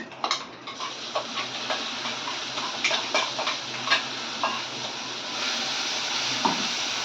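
Mustard seeds, curry leaves and green chilli sizzling and crackling in hot oil, with scattered pops and ticks over a steady frying hiss and occasional soft clinks of a spoon against the pan.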